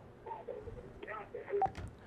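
Telephone dialing tones during an Arabic call-in broadcast: a few short keypad beeps near the end, faint and mixed with soft talk and line noise.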